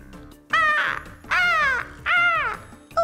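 A seagull gives three loud, harsh, descending calls in steady succession, close and clear, with the start of a fourth at the end.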